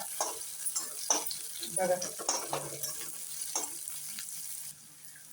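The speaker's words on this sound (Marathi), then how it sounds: "आपला कांदा फ्राय होण्यासाठी आपण मीठ टाकून घेऊ बरं का" Onion salted and frying in a pan for a village-style dish, a close sizzle broken by stirring and scraping sounds, with someone talking briefly over it.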